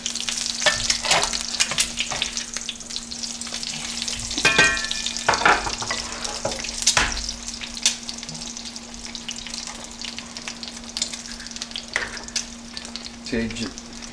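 Lacy eggs fry in hot, lightly smoking oil, giving a steady crackling sizzle with sharper pops and spatters throughout, close and alone with no talk.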